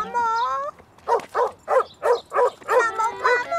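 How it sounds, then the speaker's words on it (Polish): A cartoon dog barks menacingly, six evenly spaced loud barks following a brief whining tone, close and clear with no talk over them. "Pies szczekał tak groźnie."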